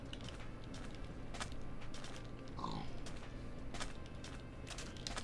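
A pig in modded Minecraft gives a few short grunts, fairly faint and set against a steady hum of game background noise.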